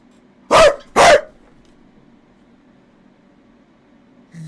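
A man imitates a dog with two loud, close barks in quick succession, followed by near silence.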